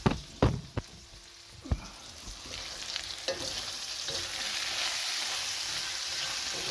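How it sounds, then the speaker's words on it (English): Sausage fries in a pan for biscuits and gravy, opening with several sharp knocks of a utensil against the pan, then settling into a steady, rising sizzle. "First thing you got to do is you got to fry up your sausage"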